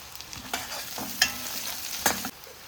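Garlic and green chillies fry in a pan with a soft sizzle, broken by a few distinct scraping stir strokes; no voices.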